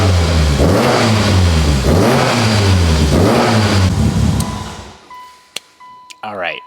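A Mitsubishi Evo 8 engine revs up and down in rhythmic, close-up cycles during cam break-in, then drops away to a few sharp clicks and clanks.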